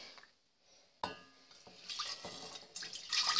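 Apricot juice from jam-making is poured off a pot, giving a splash and clink of the pot edge followed by a steady close trickling and gurgling pour that grows louder toward the end.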